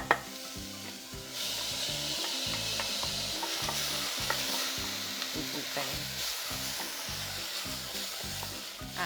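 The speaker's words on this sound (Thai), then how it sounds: "เราก็ใส่ ผักลงไป ผัดสักผักก็ใส่ข้าวลงไปผัดด้วย" Vegetables and rice are stir-fried in a pan for a Japanese-style rice porridge. A steady sizzle sits under rhythmic, repeated scraping strokes of a utensil, with a sharp clack at the start and no speech.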